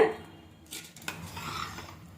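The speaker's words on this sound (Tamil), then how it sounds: "அரிசி பருப்பு எல்லாத்தையும் நல்லா கலந்து விட்டுக்கலாம்" Rice and lentils are stirred together in a cooking pot for a Tamil rice-and-dal dish. A metal spoon scrapes against the pot with a few soft clinks, quiet and close, with no talking.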